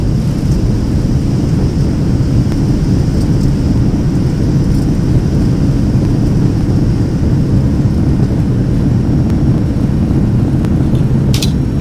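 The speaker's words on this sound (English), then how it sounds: "Reversers are out" Thrust reversers on a FlightFactor Boeing 757 freighter in X-Plane 11 during landing, a loud continuous low roar of engine noise holding steady throughout, with a brief high chirp near the end.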